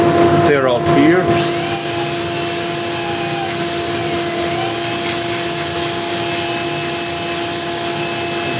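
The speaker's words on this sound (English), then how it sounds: "This is 120 grit, and you can use the drill." An electric drill fitted with a 120 grit sanding pad whirs continuously against a wooden workpiece held on a lathe, a loud steady hum with a brief scrape at the start and a slight pitch shift midway.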